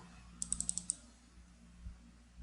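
A computer mouse button clicked in quick succession, a short burst of about six crisp, close clicks over half a second in a quiet room with low hum.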